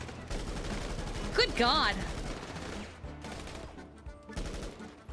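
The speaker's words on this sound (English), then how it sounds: "Go ahead and strafe left to right within your booth and try and shoot the weapon." Rapid gunfire at a shooting range booth in the video game GTA NoPixel, dense repeated shots in quick bursts, fairly close, with a voice speaking briefly over them.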